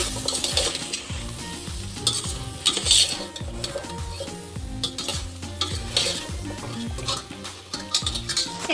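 Coriander powder masala for a vegetable kulambu is stirred in a pan, and the spoon makes rapid, busy scraping and clinking against the metal over a continuous sizzle. The sound is close and fairly loud.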